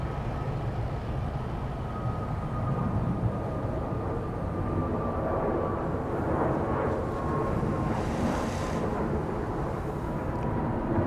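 An airplane lands on runway 13 left at Dallas Love Field, a steady loud roar of engines and rolling noise with a swelling rush near the end, heard alone.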